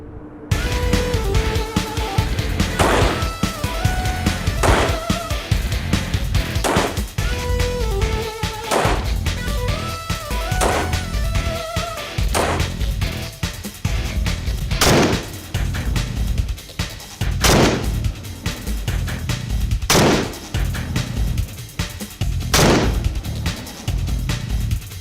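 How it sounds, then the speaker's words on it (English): A Remington 742 semi-automatic rifle fires rounds in quick succession on an outdoor range at about 25 yards, giving a series of loud, sharp reports spaced a couple of seconds apart, each followed by a brief echo. "that's 5 rounds from about 25 yards in pretty quick succession"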